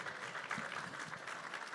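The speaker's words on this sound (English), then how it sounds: "Give them all a round of applause." An audience at an auctioneer championship at the Fort Worth Stock Show and Rodeo claps in a steady, even patter, faint and somewhat distant.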